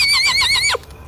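A single horse neighs as a podcast sound effect: one close, clear whinny with a quavering, wavering pitch that drops off sharply at the end, followed by faint quiet.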